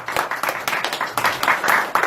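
A church congregation at a Sunday worship service breaks into applause, a fairly loud, dense spatter of hand claps lasting a couple of seconds.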